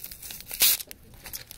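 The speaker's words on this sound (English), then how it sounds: "And I'll see if I can remove the tape here." Packing tape torn off a bubble-wrapped package of hockey cards gives one brief, sharp ripping burst amid faint crinkling, close up and otherwise quiet.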